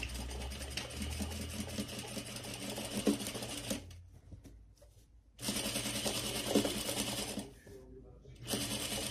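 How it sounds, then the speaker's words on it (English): A sewing machine stitches the pocket onto a tote bag in rapid mechanical runs, stopping twice for short pauses before starting again, close and clear. "And I'm going to sew the middle first."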